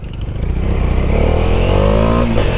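A group of at least five motorcycles pulling away together on a road ride, engines loud and close with a rising rev and a steady, rumbling roar throughout, with no talking.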